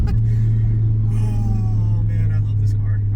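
A Volvo V70 R car heard from inside while driving, with a steady loud low engine drone throughout and some faint higher mechanical whine on top.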